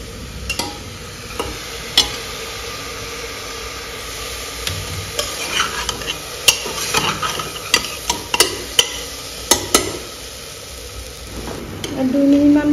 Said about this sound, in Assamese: মছলা কলডিল বিলাহী চব একেলগে দি দি এটা ভাজিম